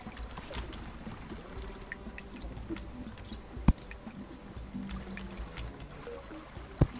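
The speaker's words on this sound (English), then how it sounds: "the water sounds so beautiful down here with headphones on." Underground water ambience in the game Terraria: a soft, continuous trickling and flowing stream with gentle drips, steady and fairly quiet, broken by two sharp clicks partway through.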